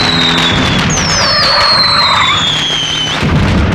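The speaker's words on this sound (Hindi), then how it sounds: "आज न दिवाली है न दशहरा, फिर भी पटाखे चला रहे हैं, वो भी बीच सड़क पर" Firecrackers set off in the middle of a street in a 1997 Hindi film, heard as a dense stretch of crackling bursts and whistling, rising streaks that sweep overhead, loud and continuous with no talk.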